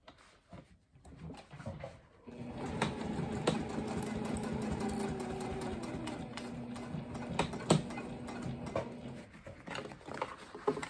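A sewing machine stitches across the strap of a tall tote bag, a steady mechanical run lasting several seconds after a quiet start, with faint tapping sounds around it.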